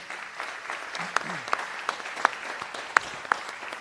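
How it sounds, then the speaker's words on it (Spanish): Applause for a panel at a religious-freedom event, a modest crowd clapping with several sharp, close individual claps standing out and a faint voice briefly underneath. "un aplauso para todo este panel de lujo"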